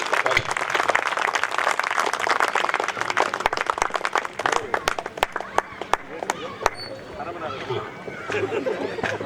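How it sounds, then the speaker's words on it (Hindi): Applause and clapping from the audience at a Hindi comedy poetry gathering (hasya kavi sammelan) in a township, dense crowd clapping with sharp individual claps near the middle, then tapering into chatter under a speaking voice. "ये तालियां कम है, एक बार जोरदार तालियां बजाएं"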